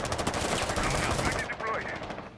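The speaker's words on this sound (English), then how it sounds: "Nova getting spawn peeked by Cortari with that FMG" Rapid bursts of FMG submachine gun fire ring out during a Rainbow Six Siege match. The bursts are loud and close for over a second before the firing cuts off.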